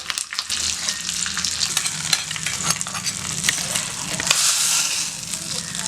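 Curry leaves sizzle and crackle in hot oil as a tempering for coconut chutney, a dense, steady frying hiss with sharp pops throughout, close and fairly loud, with no voices.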